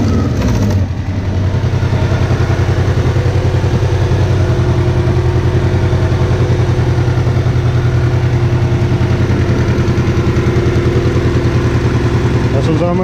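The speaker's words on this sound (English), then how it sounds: "when I give it gas, you'll hear the leak from the header" A Honda engine with a leaking exhaust header runs on a dyno, holding a steady loud idle-like drone with a ticking rasp throughout, close to the microphone.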